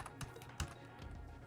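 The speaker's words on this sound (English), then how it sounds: "we start typing" Quiet, close clatter of keystrokes on a computer keyboard, an irregular run of light taps lasting a second and a half.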